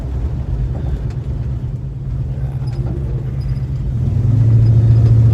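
A 1969 Dodge Charger B-body driving on a street with rear tires that rub over bumps, giving a steady, close engine rumble and road noise that swells louder and deeper near the end.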